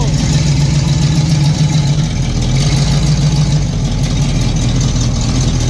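A car engine runs steadily and loudly throughout, a low rumbling idle with slight surges as if creeping forward, close by and alone with no voices.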